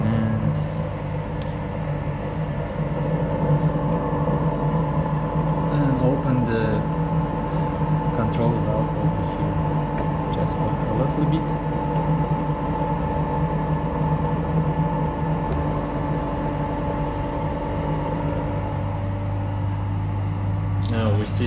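A water pump hums steadily while running on a fluid friction apparatus, a constant low mechanical drone with tonal whine, joined by a second low tone near the end, with a person talking over it.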